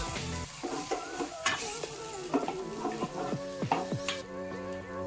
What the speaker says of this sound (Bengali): দিয়ে সমস্ত মশলা ভালোভাবে কষিয়ে নেব